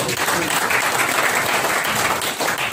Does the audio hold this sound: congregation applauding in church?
yes